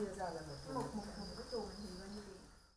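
Farmed crickets chirp in a dense, soft chorus of overlapping high trills, with some low murmuring underneath.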